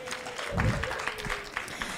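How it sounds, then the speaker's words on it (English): A conference audience claps as a speaker comes to the stage, a short burst of scattered hands with a faint voice and a thud mixed in. "Let's clap for her as she comes."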